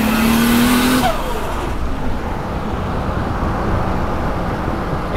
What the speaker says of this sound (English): It's scary how quickly this car goes.